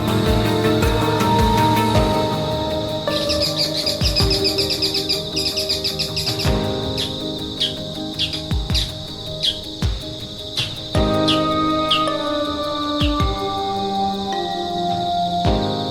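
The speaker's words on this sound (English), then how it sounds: "step outside onto the expansive terrace, where you're greeted by the soothing melody of birdsong" Birdsong on a tropical terrace among lush greenery, with repeated bright chirps and trills layered over a steady background of insect-like buzzing and ambient tone, fairly close and continuous throughout.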